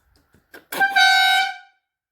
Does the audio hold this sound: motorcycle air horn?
yes